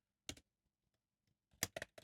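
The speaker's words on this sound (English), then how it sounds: "I'm just typing it out." Quiet clicks of typing on a computer keyboard, a short burst of keystrokes followed by a pause and then a quicker cluster of taps, close by with no talking.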